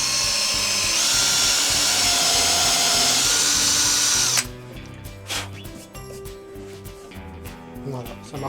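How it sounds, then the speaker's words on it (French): Cordless drill boring into wood with a small-diameter Powerfix Forstner bit, a loud steady whine for about four seconds before it cuts off, followed by softer handling noise and a few faint clicks. "Ici une perceuse sans fil. Donc c'est parti avec le plus petit diamètre."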